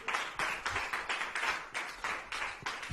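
An audience claps at a live stand-up comedy show at a festival, a brisk run of hand claps in uneven bursts, moderately loud and close, with no talk over it.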